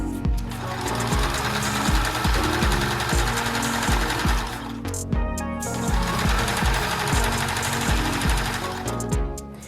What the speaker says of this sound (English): Just continue to sew with your basting stitch.